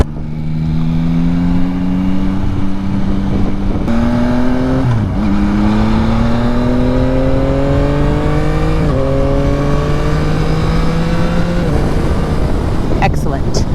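A Yamaha MT-09 SP motorcycle engine pulls hard as it is ridden, its close, loud note climbing in pitch through several gear changes over wind roar.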